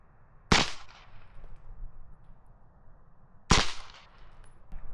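Two sharp gunshots fired at a target dummy crack out about three seconds apart, each a loud, sudden report with a brief echoing tail over quiet outdoor background noise.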